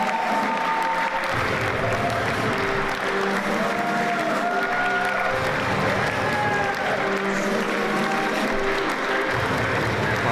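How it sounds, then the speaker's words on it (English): A crowd of several hundred fans at a wrestling ladder match claps and cheers continuously, broad steady applause with commentators talking over it. "Some applause from many of our 500 plus fans here."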